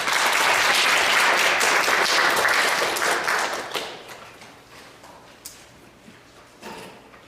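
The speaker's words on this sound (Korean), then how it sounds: "박수로 맞이하겠습니다" Church audience applause welcoming a pastor to the pulpit at an opening worship service, loud dense clapping that gradually thins and fades into a few scattered claps.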